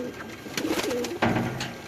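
Red-eyed nawab pigeons from Lahore coo close by, giving two or three soft, throaty rolling calls in quick succession against a light background hiss.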